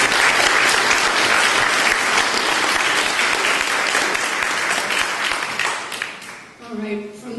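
Audience at a 2013 League of Women Voters school board candidate debate applauds loudly and steadily for several seconds, then the clapping thins out and a voice begins speaking near the end.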